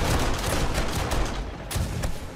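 Dense, continuous automatic gunfire from turrets defending a horde base in the survival game 7 Days to Die, a steady loud rattle of rapid shots with no talking.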